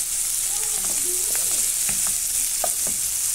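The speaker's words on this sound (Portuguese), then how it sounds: "E vou deixar dourar nossa cebola, nosso pimentão, dar uma boa murchada." Chopped onion and bell pepper sizzle and fry in a pan for a Christmas farofa, a steady close hiss with soft stirring scrapes, no talking.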